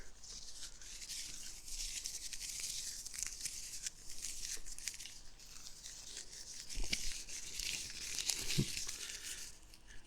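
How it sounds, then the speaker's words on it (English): Close rummaging through a jumble of stuff in search of a tape measure, with crinkly, papery rustles and scuffs, steady and soft, rising into a few sharper knocks toward the end. "Got the tape measure in here."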